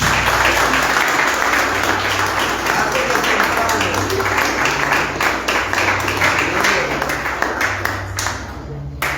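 Congregation applause rings out in a church service, steady hand clapping with a low hum underneath, tapering off near the end.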